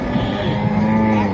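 A single close, deep moo from a bull at a busy cattle market selling Qurbani animals, lasting just over a second against a steady background murmur.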